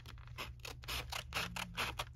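Scissors snip through paper for a papercraft envelope pocket, a quick run of crisp, rhythmic cuts close by with a faint mechanical hum underneath.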